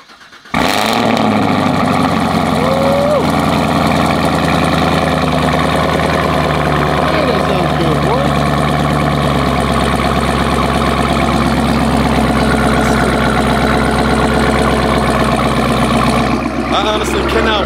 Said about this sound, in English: You already know it's only right to do a cold start on this thing.